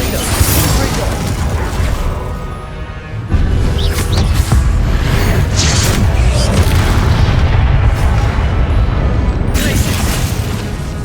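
Repeated Confringo fire spells go off in Hogwarts Legacy, each one a loud, heavy boom with a bursting crackle. The blasts run back to back over dense game sound, and a voice calls out spell names.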